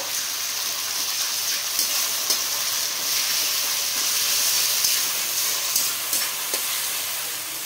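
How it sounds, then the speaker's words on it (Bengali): Ginger, garlic and tomato paste sizzles steadily in a hot pan with dense, even hiss and occasional spatters, continuous throughout with no talking. "এখানে আদা রসুন আর টমেটো পেস্ট করেছিলাম, তা এই পেস্টটা এবার এখানে দিয়ে দেব।"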